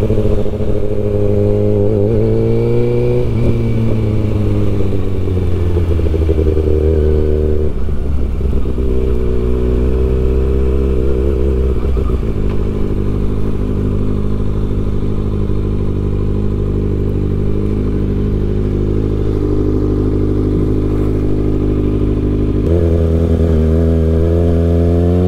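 Continuous close engine roar of a Kawasaki ZX-6R sport bike being ridden through a port area, with rising and falling revs, shifting pitch and steady wind-like rumble throughout.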